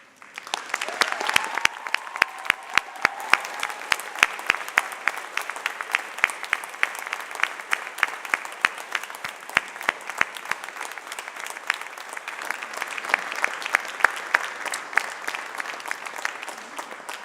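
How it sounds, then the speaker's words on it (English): Graduates at the Dalhousie University Faculty of Agriculture spring convocation applaud and cheer in an auditorium. Sustained, crisp clapping runs throughout, with a brief rise of cheering near the start. "Now it is your turn to honor them with cheers and applause."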